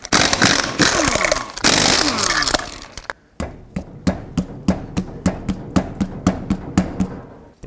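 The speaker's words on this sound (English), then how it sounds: "take off all 6 lug nuts using a 21mm socket" Impact wrench with a 21mm socket spinning off lug nuts on a 2001-07 Toyota Sequoia, loud buzzing rattle bursts giving way to a rapid train of sharp, evenly spaced hammering clicks up close.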